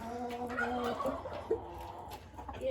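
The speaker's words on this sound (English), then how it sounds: "Them little roosters, they think they bad." A small Silkie rooster clucks close by in a farmyard, several short, soft, throaty clucks in an uneven rhythm against faint background noise.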